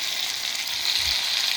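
Tomatoes hitting a hot pan with a close, steady frying sizzle, loud and continuous throughout with a slight low thump midway.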